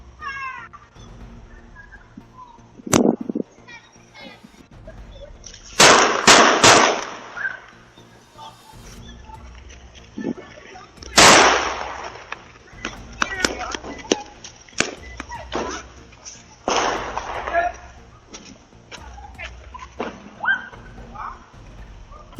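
Several sharp, loud gunshots, some in quick clusters, heard on a CCTV recording among voices and background noise, with a cat-like cry early on.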